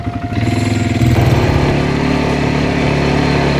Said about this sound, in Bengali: মরুভূমির এই বিশাল বালুর সাগরে কোয়াড বাইকিং এর অনুভূতি দুর্দান্ত।